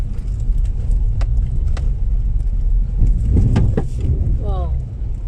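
Front-wheel-drive SUV driving over a rough farm road in the Philippines, with a steady low rumble from inside the cabin and scattered knocks and rattles from the bumpy ride.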